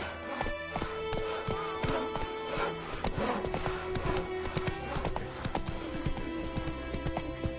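Roach, a horse in The Witcher 3, gallops with a fast, steady clip-clop of hooves, loud and continuous over game music and ambience.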